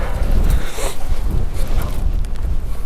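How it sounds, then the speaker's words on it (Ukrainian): Steady roar of strong wind buffeting the microphone at a pig farm, with heavy low rumble throughout and no clear voices. "Треба обережно, бо вітер сильний."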